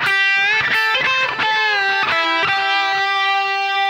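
Distorted electric guitar plays a lead phrase, a run of bright sustained notes with string bends, loud and alone, ending on a long held tone.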